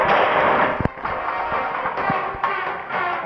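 Loud, dense explosions in the video game Hungry Shark World with a heavy crackling roar and several sharp booming blasts, one after another, no voices.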